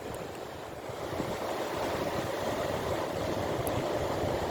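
Ocean waves roll in at night, a steady close wash of surf with a broad, continuous roar that swells slightly after the first second.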